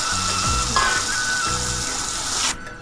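Food with salt and turmeric frying in oil for a local crab dish: a loud, steady, close sizzle with light stirring, cutting off abruptly just before the end.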